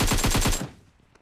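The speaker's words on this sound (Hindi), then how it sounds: "देखो उस डीपी वाले को राइट से कुछ और बंदे गोली चला रहे हैं" Rapid automatic gunfire from Battlegrounds Mobile India, about six loud close shots in a quick even burst that stops abruptly and fades to near silence.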